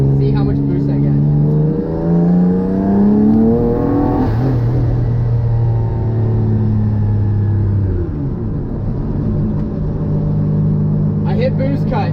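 A twin-engine car revs hard under full boost, its engine note climbing and falling in loud sweeping pulls. The sound holds steady and heavy, then drops back to a lower rumble.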